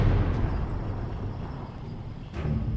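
Explosions tear through a burning ammunition wagon in a rumbling, continuous roar, with a couple of sharper bursts at the start and near the end.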